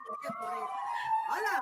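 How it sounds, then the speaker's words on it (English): Police car sirens wail and sweep in a street scene, a loud rising-and-falling tone with other traffic noise and voices mixed in. "Never seen police cars move so quick."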